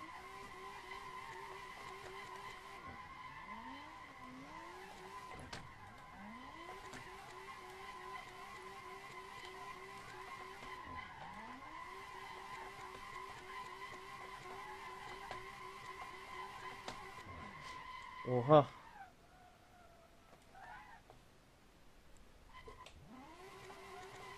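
A Tofaş car drifting along a mountain road in Assetto Corsa, its engine droning steadily while tyres skid and squeal in repeated sweeping slides, with a sharp louder screech near the end before the engine drops off.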